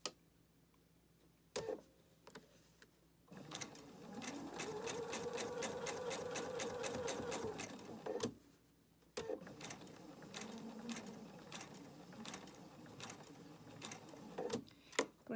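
A sewing machine stitches a fabric seam up to a pin in two steady runs of rapid, even mechanical whirring with a brief pause between, close and alone with no talk.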